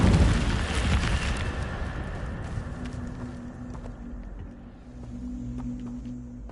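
Incendio fire spell cast in Hogwarts Legacy: a loud, roaring burst of flame up close at the start, then a crackling, rumbling tail fading into a steady low hum.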